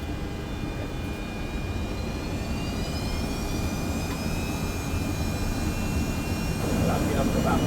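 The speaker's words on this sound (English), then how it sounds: "I'm gonna do the left engine first" An abandoned Boeing 737 private jet has its left engine starting up, a steady jet whine with tones rising gradually as the engine spools, growing louder toward the end over a broad roaring rush.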